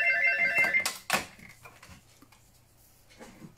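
A telephone rings with a short electronic tone burst at the start, then a couple of sharp clattering knocks as it is handled, followed by quiet background.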